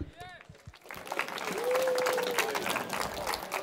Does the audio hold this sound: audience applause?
yes